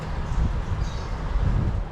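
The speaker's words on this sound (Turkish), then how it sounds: "Dışarıda rüzgar adamı mahvediyor kardeşim." Steady low rumbling storm wind buffets the microphone outdoors on a farm, a constant roaring gust with no clear pauses.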